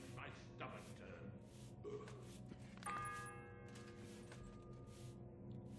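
A church bell in the Kingdom Come Deliverance 2 video game sounds a few clear, ringing strikes that hang in the air, fairly soft beneath game dialogue and background ambience.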